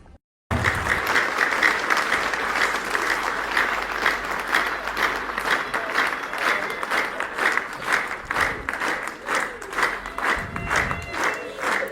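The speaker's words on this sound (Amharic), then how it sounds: "ከቤቱ ከሰራበት መድረክ ላይ ሲወጣ የለመደውን ጭብጨባ አጨብጭበን እንሸኘዋለን" Mourners at a funeral farewell for an actor, held at the theatre stage where he worked, break into sustained applause; dense, steady clapping from a large audience rises abruptly after a brief silence and continues unbroken, with scattered shouts.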